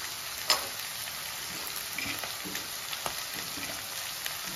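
Gobi fried rice sizzles in a street-food pan, a steady dense crackle of frying with a few sharper spatters and stirring clinks, close and fairly quiet.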